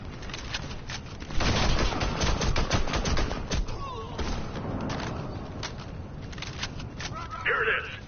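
Dense bursts of automatic gunfire in a Warface firefight at a North African missile base, played on PS4: loud, rapid shots crowd the middle section, thinning into scattered single reports, with a voice talking at times.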